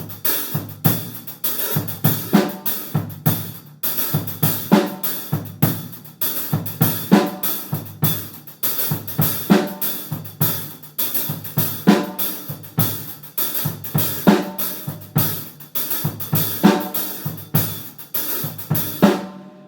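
Drum set playing a steady calypso groove with a pulsing heartbeat kick drum pattern, crisp hi-hat and snare hits repeating in a lively, even rhythm, close and loud with no talking.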